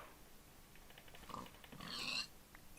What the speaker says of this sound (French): Ah bah il y a du cochon là.